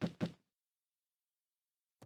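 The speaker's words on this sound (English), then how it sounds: "It's like somebody knocking." Someone knocks at a front door in the video game Beacon Pines, two dull, close knocks followed by silence and a faint third tap.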